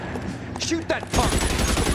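Burst of rapid gunfire from a shootout in L.A. Noire, loud and dense after a second of quieter game noise and voices, with talk running underneath.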